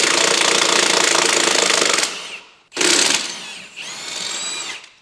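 A power tool rattles loudly while undoing engine bolts on an Audi RS3 8V with a wrecked engine, one long close burst, a pause, then a shorter burst and a whirring spin-down.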